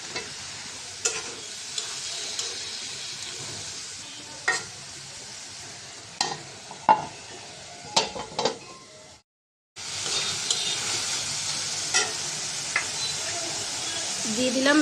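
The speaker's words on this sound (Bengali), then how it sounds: "মশলা কষানোর সাথে আলুগুলো দিয়ে দিলাম" Potatoes fry with spices in a pan under a steady close sizzle, while a spatula stirs them in sharp, irregular scraping strokes. There is one brief silent break.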